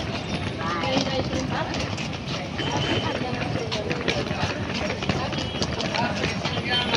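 Konkan Railway express train pulling away from Kankavli station, a loud, close, rhythmic clatter of wheels over rail joints under a rumbling roar, while people talk nearby.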